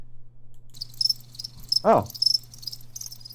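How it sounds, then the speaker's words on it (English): Crickets chirp in soft repeated bursts over a low steady hum, with one brief exclamation from a voice in the middle. "There's crickets, Shady."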